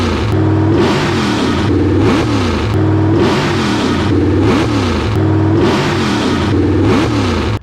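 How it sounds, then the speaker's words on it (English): A Ford 5.4 4-valve modular V8 fitted with an 8-to-1 header revs repeatedly in loud, sustained pulls, the raspy exhaust note climbing and falling in regular waves. "The 8-to-1 sounds a lot more higher and raspy"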